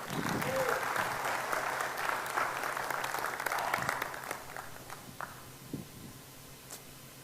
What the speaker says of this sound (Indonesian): Tepuk tangan tuh Pak Simon.